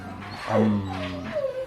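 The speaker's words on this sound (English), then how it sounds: "I'm about to let these dogs out" Dogs whimpering and yipping up close, a run of high, wavering whines and short yelps across less than two seconds, with no talk over them.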